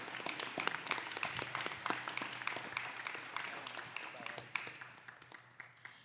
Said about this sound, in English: A huge round of applause to her.